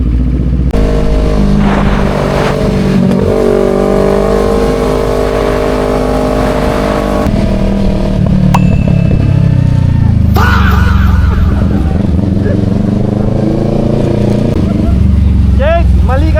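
A motocross motorcycle engine revs loudly and close for a long stretch, rising and falling in pitch with sustained throttle bursts and some clatter, while people talk over it.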